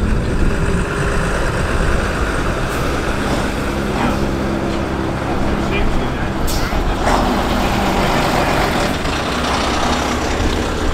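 An old Volvo F10 lorry rumbles past at a gathering of old lorries, a heavy diesel drone holding steady throughout with a few clanks and rattles as it goes by.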